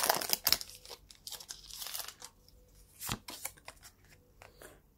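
Crinkly foil tearing and card shuffling from a Pokemon GO trading card booster pack being ripped open, a few close, sharp bursts of crackle with quieter rustling between.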